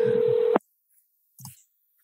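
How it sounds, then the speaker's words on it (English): A single steady phone tone plays for half a second and cuts off sharply, followed by silence and then a brief faint click or blip as a telephone call is placed. "We are making a telephone call to one Lindsey Holden"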